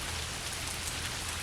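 Heavy rain pours down on central Alabama in a dense, unbroken patter of drops striking surfaces, loud and constant across the whole stretch.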